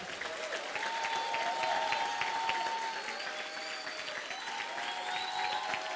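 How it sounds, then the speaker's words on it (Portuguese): A church congregation applauding during a celebration service, steady massed clapping from many hands filling the room at moderate distance, with faint voices and vocal tones drifting over it. "Você pode aplaudir o Senhor."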